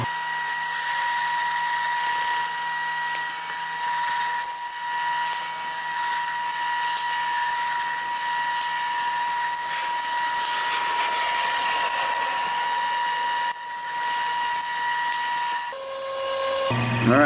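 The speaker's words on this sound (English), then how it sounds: "so we're going to go ahead and get this drilled down." An 8mm drill bit bores steadily through a pen blank on a lathe, a continuous high whining drill tone holding for about sixteen seconds before winding down at the end.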